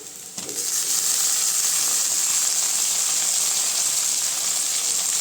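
Onions sauté in a pan, giving a loud, steady, hissing sizzle that starts up abruptly and then continues evenly, close and without talking.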